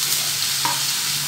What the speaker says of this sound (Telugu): పుదీనా, కరివేపాకు వేసి వేపుకోవాలి